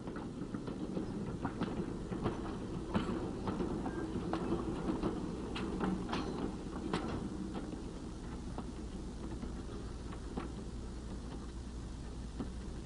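A steam locomotive rolls slowly over a test track laid with broken rails, making a steady low rumble with irregular metallic clicks and clanks from the wheels at a moderate distance.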